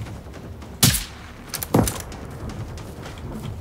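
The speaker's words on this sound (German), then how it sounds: "Schießt du nochmal?" Two sharp, loud gunshots ring out in the video game Generation Zero, about a second apart, each followed by a brief echoing tail over low ambient game noise.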